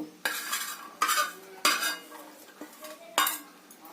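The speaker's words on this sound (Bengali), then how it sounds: "এই সমস্ত উপকরণকে পান্তার সঙ্গে ভালো করে খুব ভালো করে মিশিয়ে নেব" Fried ingredients being mixed by hand or spoon into panta bhat with curd: four or five wet, scraping stirs with soft clinks, each stroke distinct and close, no speech.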